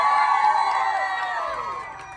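At a rock concert in Liverpool, the crowd cheers and whoops with high shouts over lingering sustained tones from the stage, the roar fading gradually over about two seconds.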